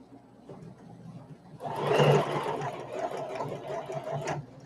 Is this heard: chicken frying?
no